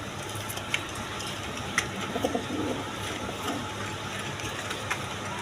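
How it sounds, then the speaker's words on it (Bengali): A pair of Danish pigeons at a pigeon seller's coo in soft, low bursts near the middle, over a steady background hum with no talking. "এখানে এক পেয়ার ডেনিশ কবুতর"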